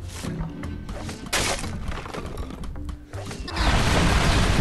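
Catapult strikes in Dino Bash smash down in a dense, crashing barrage of hail-like stone impacts and thuds, loud and continuous with game music underneath.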